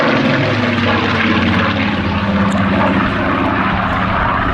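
A Supermarine Spitfire PR.XIX with its Rolls-Royce engine flies at an air show, its loud, steady propeller drone filling the air with no break.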